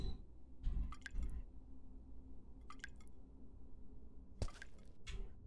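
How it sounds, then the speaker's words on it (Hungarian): Liquid drips in a Halloween horror video game, a few soft isolated drip and splash sounds spaced apart over a low, steady ambient drone. "Aha, és akkor itt csöpög valami?"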